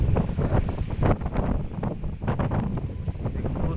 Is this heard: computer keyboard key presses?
no